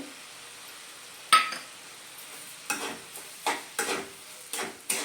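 A spoon scrapes and knocks against a pan as sugar is stirred into papaya chutney, several distinct strokes spaced about a second apart after one louder initial clank, over a quiet background.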